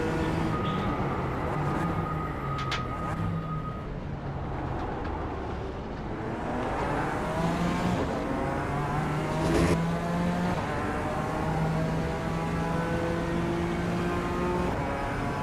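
McLaren race cars in a video game race whine along, engine pitches climbing and dropping through gear changes over a steady mid-level roar, with occasional passing tones and no talk.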